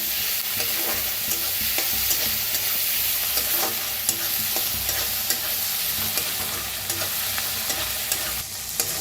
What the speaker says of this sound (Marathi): कांदा छान भाजायला लागलेला आहे